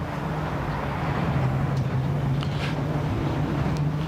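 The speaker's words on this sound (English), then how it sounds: "So the dulcet sound of a Ford RS200 Evo." A Ford RS200 Evo rally car sits on the start line of a forest rally stage at Goodwood. It gives a steady, droning engine idle at moderate distance, with wind noise throughout.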